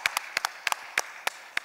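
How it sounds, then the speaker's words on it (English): Scattered, sparse hand claps from a small audience at a Prime Video event, a handful of sharp separate claps spread over under two seconds rather than a full ovation, fairly quiet. "Ladies and gentlemen, a big applause for that."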